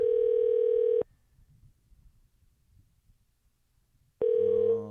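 A steady telephone tone sounds after a number is dialed, a sustained electronic beep that cuts off, followed by quiet line noise and then the tone returning, no talking.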